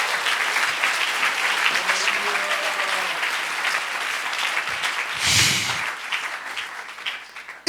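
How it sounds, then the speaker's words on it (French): A church congregation applauds during a French-language sermon, a steady, full round of clapping that fills the room for several seconds, swelling briefly near the end. "on peut donner une bonne acclamation."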